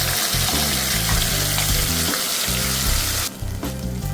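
Ground coconut paste fries in a pan for a black pomfret fish curry, a loud continuous sizzle and crackle up close that suddenly softens near the end, with no one speaking.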